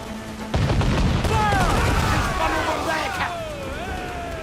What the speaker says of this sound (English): A cannon! Get out of range!